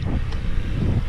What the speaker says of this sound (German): weil mir der Wind, der mir durch die Ohren pfeift, dermaßen auf den Sack geht